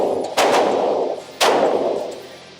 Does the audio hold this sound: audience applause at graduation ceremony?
no